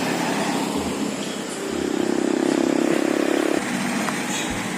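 A motorcycle engine idles and runs near a café-restaurant parking entrance at night, a steady mid-loud drone rising for a couple of seconds then cutting off, over ambient outdoor background.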